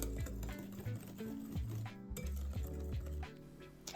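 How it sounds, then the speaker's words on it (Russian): Eggs with orange zest are whisked in a bowl, giving quick metallic clinks and scrapes against the sides in an irregular rhythm, close and fairly quiet. "И теперь все хорошо перемешиваем, пока масса полностью не объединится."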